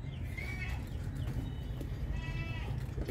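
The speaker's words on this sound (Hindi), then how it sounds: "तो अभी ये देखिए, उनके घर की बकरी का बच्चा है ये" A young goat kid gives faint, high bleats twice over a steady low rumble of farmyard background noise, with no talking.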